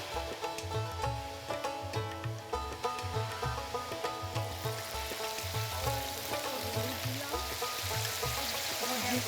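Onion frying in oil with a pinch of salt for a traditional North Bengal sidol curry gives a steady, close sizzle that runs throughout, with soft low thumps underneath.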